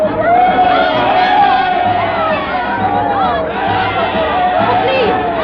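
A dense crowd on a pier in a 1945 radio drama, a continuous babble of many voices with scattered shouts and calls, loud and close throughout.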